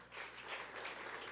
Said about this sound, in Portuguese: Aplauda o Senhor Jesus por causa disso.